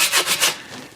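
Close sandpaper rubbing on a wooden longbow, four quick rhythmic strokes followed by a softer fading rub, with no talk.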